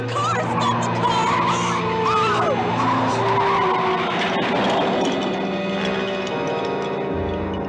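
A car is driven hard with tires screeching and skidding, a loud continuous rush of engine and squealing rubber that wavers in pitch before easing off near the end.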